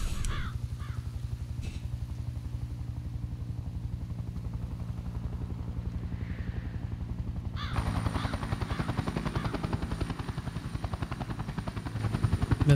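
A helicopter in the shooter game Sniper Ghost Warrior 2 thrums steadily with a low, pulsing rotor beat, growing louder and closer partway through, with a few brief crow-like caws early on.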